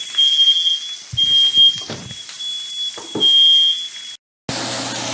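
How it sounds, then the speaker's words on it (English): Kitchen smoke alarm set off by cooking sausages, peppers and onions; a shrill, steady high-pitched tone sounding close and continuously for about four seconds, with faint clattering beneath before it cuts off. "Oh, that's a fire alarm."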